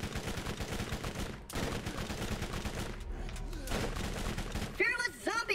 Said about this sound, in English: I am just firing at random